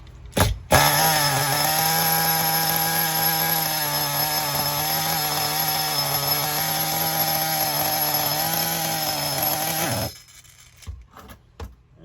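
A nitro RC car's small high-revving engine drones loudly and steadily for about ten seconds, then cuts off abruptly, leaving quiet clicks and rustling.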